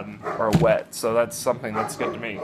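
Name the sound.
dog barking in the background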